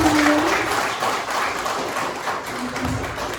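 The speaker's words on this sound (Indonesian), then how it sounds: "teman-teman beri tepuk tangan dulu" An audience claps together at a coffee-themed talk, a steady wash of applause lasting a few seconds at moderate loudness, with faint voices mixed in underneath.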